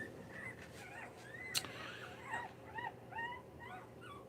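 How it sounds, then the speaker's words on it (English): Young puppies whine and whimper in a string of short, rising high-pitched cries, fairly close and moderately loud, with a brief sharp click partway through and no talking. "the puppies are starting to whine a little bit now"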